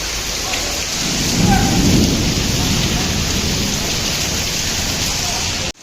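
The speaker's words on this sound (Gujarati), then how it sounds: "ગાજવીજ સાથે કરા પણ પડી ગયા બહુ સારા એવા" A heavy thunderstorm with hail pounds Rajkot: dense torrential rain and hail roar continuously, with a deep rumble of thunder swelling early on, loud and close.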